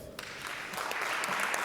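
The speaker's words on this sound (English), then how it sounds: "Let's give them a round of applause." Audience clapping at a Rotary club meeting, starting with a few scattered claps and quickly building into a full, steady round of applause from a roomful of people.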